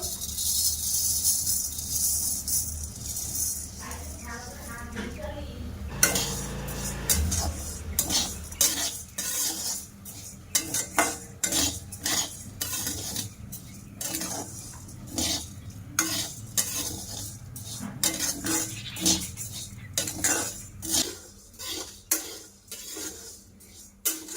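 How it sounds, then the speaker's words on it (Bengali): Rice being dry-roasted in a kadai, a steady dry rattling of grains under repeated scraping strokes of a spatula against the pan, close and rhythmic, with no talk. "এবার চালটা ভাজা করে নেব।"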